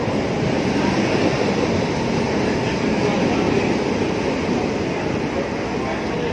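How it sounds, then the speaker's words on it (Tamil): A train pulls into a station with a loud, continuous broadband rumble and rushing noise, steady throughout with no distinct clacks, heard from close by on the platform. "இந்த ட்ரெயின் வந்துருச்சு."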